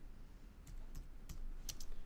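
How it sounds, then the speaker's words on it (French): A computer keyboard being tapped, spacebar and arrow keys, during an InDesign contact-sheet exercise: several quiet, crisp clicks scattered irregularly over near silence. "Flèche gauche et droite sur le clavier pour les passer en revue."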